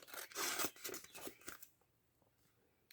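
Close, soft scissors snipping and rustling as excess is trimmed from junk journal book pages, a burst of paper cutting for about a second and a half before fading into quiet, with no talking.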